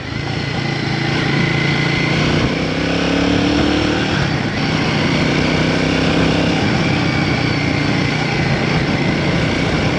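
A Royal Enfield Guerrilla 450 motorcycle engine drones steadily and loudly while being ridden, a continuous near hum with slight variations in pitch and no talking.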